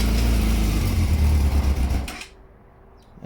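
A 1998 Yamaha YZF600R Thundercat, an old non-running motorcycle with the choke on, cranks with a loud, rough engine churn that stops suddenly, leaving quiet.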